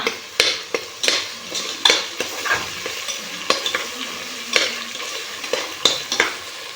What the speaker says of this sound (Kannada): ಇದಕ್ಕೆ ಸ್ವಲ್ಪ ಕೊತ್ತಂಬರಿ ಸೊಪ್ಪನ್ನು ಪುದೀನ ಸೊಪ್ಪು ಕಟ್ ಮಾಡ್ಕೊಂಡು ಇರೋದು ಹಾಕೋ ಹಾಕೋಣ ಹಾಕ್ಕೊಂಡು ಸ್ವಲ್ಪ ಫ್ರೈ ಮಾಡೋಣ